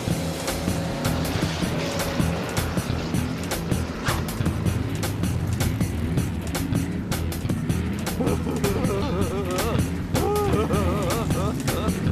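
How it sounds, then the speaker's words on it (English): Cartoon extreme aqua bikes, personal watercraft, race across water with a steady motor drone and splashing, while voices and music carry on over the top. "How do you like our extreme aqua bikes?"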